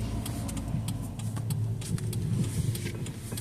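A car crawling along at about two miles an hour in slow traffic, its engine a steady low rumble close by with slight surges, no talking.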